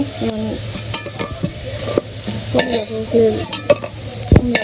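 Fried tela kucho leaves stirred in a hot pan and lifted out, loud close scraping and stirring strokes over a continuous sizzle, with a few sharp metal knocks toward the end.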